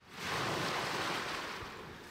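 Ocean waves crash on the shore in a broad, rushing surge that swells quickly and then slowly recedes, loud and close with some wind, and no voices.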